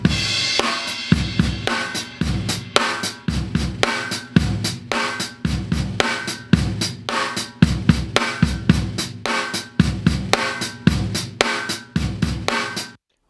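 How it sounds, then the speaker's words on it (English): A snare drum heard through its top microphone plays a steady hip hop groove, with crisp, punchy hits repeating in an even rhythm alongside kick drum and cymbal accents, close and loud with no talking. "Okay, so that is the sound of the top snare."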